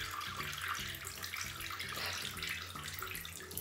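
Tap water runs steadily into a tub or sink while a dog named Bibi is being washed, a continuous close hiss and splash with no talking over it.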